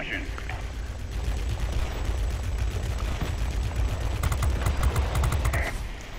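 Rapid gunfire from an XF-90 jet aircraft in a combat flight video game rattles steadily through a dense, roaring mix for several seconds, with sharper bursts of shots near the end.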